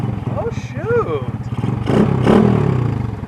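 A small motorcycle with an aftermarket exhaust revs in short bursts, the engine note rising and falling under nearby conversation and exclamations.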